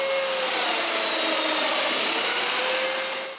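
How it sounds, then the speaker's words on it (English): A domino joiner whirs steadily with a high-pitched whine as it drills mortises into wood, close and loud, winding down at the end. "and I drill the hole"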